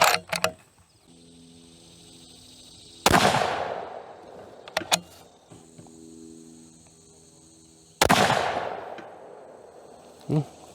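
A 220 Swift rifle fires two sharp, loud shots several seconds apart outdoors, each with a short ringing decay and echo, and insects chirp faintly in the quiet between.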